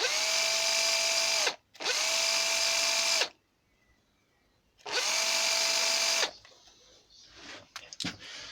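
A small cordless drill runs in three bursts of about a second and a half each, a bright steady high whine that spins up quickly and cuts off sharply, close by, followed by faint handling clatter.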